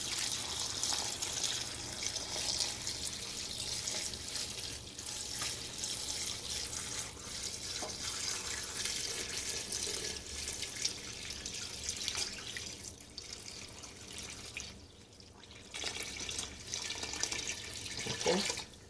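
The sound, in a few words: water running from a tap into a gumbo pot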